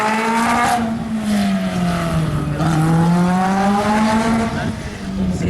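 A slalom race car's engine drones loud and close, its pitch rising and falling as it accelerates and lifts between gates, with a commentator talking over it.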